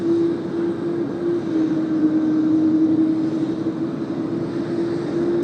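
A Japan Airlines jet departing Tokyo Haneda for Singapore gives a steady, moderately loud engine roar with a prominent sustained low hum, unbroken for the whole stretch.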